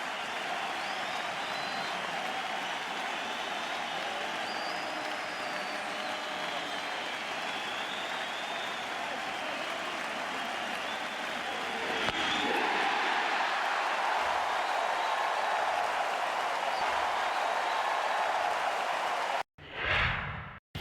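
Baseball crowd at Fenway Park during a damp, chilly World Series Game 1, a steady roar of cheering and applause urging on a strikeout, rising louder midway, with a brief sharp thump at the end.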